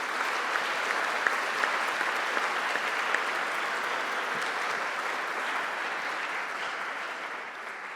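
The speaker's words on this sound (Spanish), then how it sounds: "un aplauso para todas ellas." Sustained applause from a museum forum audience, dense steady clapping at a constant level throughout, with no speech over it.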